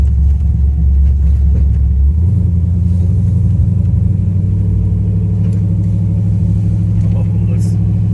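An LS-swapped third-generation Camaro on its first drive: a loud, deep engine rumble runs throughout, with the pitch shifting as it pulls and then settling into a steady cruising drone.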